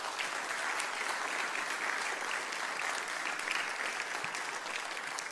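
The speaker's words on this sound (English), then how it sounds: "So a round of applause for all of you." The audience at a youth ensembles spring concert gives the volunteers a round of applause. Many hands clap in a steady, even wash that sounds somewhat distant and soft.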